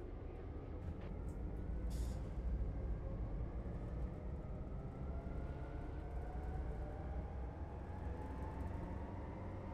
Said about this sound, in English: Just waiting for the brakes to fully release,